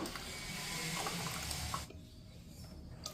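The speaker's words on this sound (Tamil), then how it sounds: "இப்போ கொஞ்சம் தேவைப்பட்டது தண்ணி கொஞ்சம் ஆட் பண்ணிக்கிறேன்." Water pours steadily from a tap or jug into a pot of South Indian rasam, a broad splashing rush that stops abruptly partway through, leaving quiet kitchen room tone.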